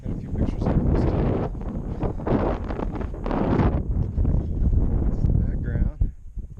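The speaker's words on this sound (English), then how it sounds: "It's a little bit windy today." Wind gusts steadily buffet the microphone outdoors on a desert stretch of the Pacific Crest Trail near Eagle Rock, a loud, continuous rumbling roar with a brief lull near the end.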